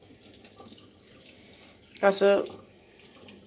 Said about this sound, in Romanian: Pun apa în chiuvetă